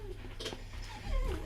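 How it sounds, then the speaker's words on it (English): A dog whimpering somewhere behind the person, a few faint high whines rising and falling over low room rumble, soft and close indoors. "It's my dog behind me."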